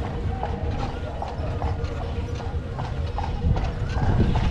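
Horse hooves clip-clop steadily on pavement as a horse-drawn carriage rolls through Dublin around St Stephen's Green, with an even, close rhythm over constant street and wheel rumble.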